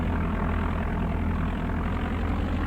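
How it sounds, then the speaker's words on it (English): Propeller airplane engine in the Flight Simulator 95 video game, a steady, loud low drone with a constant hum running unbroken throughout. "I hear a bit of a difference in the engine too."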